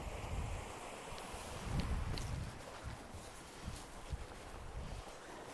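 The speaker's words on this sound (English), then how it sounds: "I just went up this way because I heard the water running" Running water from a waterfall on a creek trail, a faint, steady rushing wash with some wind buffeting the microphone, heard alone outdoors.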